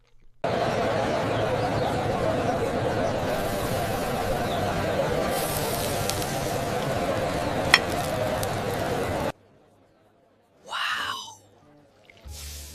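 Iskender kebab sizzling steadily and loud for about nine seconds, a dense crackling hiss that cuts off abruptly, followed by a brief voice and a short clatter.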